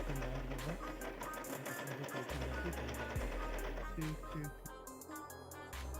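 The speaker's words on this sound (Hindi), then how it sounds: "ये जो हम सिलाई पे रख के बार बार क्विल्ट कर रहे हैं" A Singer C5605 automatic sewing machine runs quilting stitches with a rapid, steady mechanical chatter and motor whir, close and continuous, while a person talks over it.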